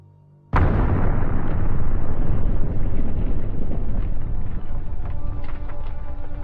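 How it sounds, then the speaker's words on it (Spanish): A huge explosion tears apart the dome of the Fukushima reactor number 1 building: a sudden loud blast, followed by several seconds of heavy, sustained rumbling roar. "las cámaras recogen una enorme explosión que destroza la cúpula del edificio del reactor número 1"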